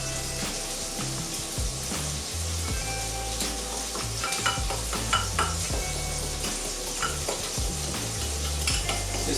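Carbonara pasta with black pepper and parmesan being stirred in a pan, a steady sizzle under repeated scraping and clinking of a utensil against the pan in an uneven rhythm.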